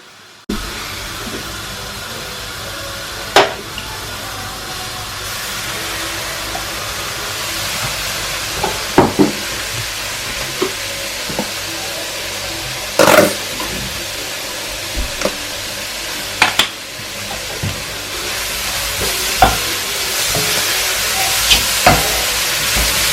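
Vegetables stir-fry with Maggi sauce in a home kitchen, a continuous soft sizzle broken by scattered sharp clicks and scrapes of stirring, fairly close and with no talking.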